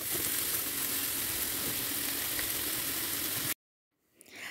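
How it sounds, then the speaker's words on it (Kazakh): Onion and carrot fry in bone fat in a pan, giving a dense, steady sizzle that cuts off abruptly near the end before a faint rustle returns. "Майымыз қызған кезде дайындап қойған пиязбенен сәбізімізді салып, сары түске енгенге шейін қуырып аламыз."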